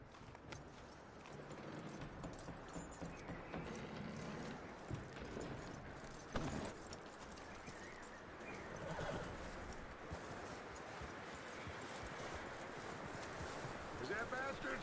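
Horse hooves clip-clop steadily in Red Dead Redemption 2, a busy rhythmic patter mixed with whinnies and outdoor noise that runs through the whole stretch, with a voice speaking over parts of it.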